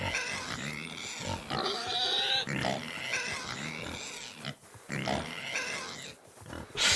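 Repeated close grunts and wheezy snorts from a pig in Kingdom Come: Deliverance II, medieval role-playing game, come in rough bursts with brief pauses, fairly loud and without talk.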